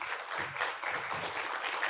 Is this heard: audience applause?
yes